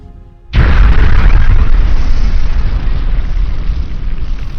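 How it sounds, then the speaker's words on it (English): A sudden loud explosion bursts in after a quiet moment, followed by a long, heavy rumbling roar that slowly fades. "the resulting explosion destroys Argoth"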